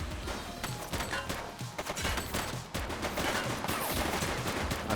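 Rapid bursts of gunfire from a police shooter game fill the scene, dense volleys and sharp cracks overlapping almost continuously, loud and close with no pauses.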